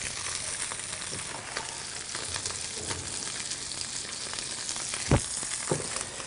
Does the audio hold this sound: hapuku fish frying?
yes